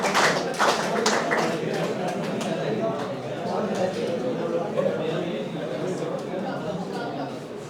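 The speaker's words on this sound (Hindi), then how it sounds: "जोरदार ताली लगाओ अपने लिए।" An audience claps along at a motivational talk, a burst of near, dense applause with rhythmic clapping that gradually thins out, mixed with crowd chatter.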